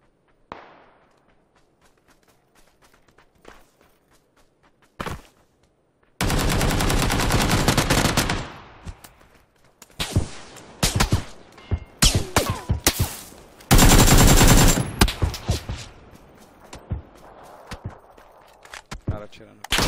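Video game gunfire, with scattered single shots, then long loud bursts of automatic fire and several more volleys, mixed with footsteps and a voice speaking.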